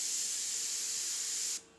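A close, loud aerosol spray paint can hisses steadily for about a second and a half while painting a freehand skull on canvas, then cuts off sharply.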